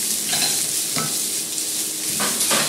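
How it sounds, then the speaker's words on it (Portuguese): Small diced calabresa sausage fries in fat in a pan, giving a steady close sizzle with a few soft stirring scrapes. "A gente vai fritar bem a calabresa aqui."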